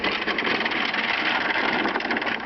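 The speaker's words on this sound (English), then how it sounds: "It's a good snowblower, it's just a pain in the ass. I don't really like two-stroke motors that much." A two-stroke snowblower engine runs steadily nearby, a continuous buzzing drone with a rapid pulsing texture and no talk over it.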